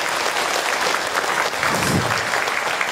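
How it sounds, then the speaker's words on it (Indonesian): A congregation at an Islamic lecture gives loud, continuous applause, a dense wash of clapping with a brief swell of crowd voices partway through. "Oke, tepuk tangan dong Bu,"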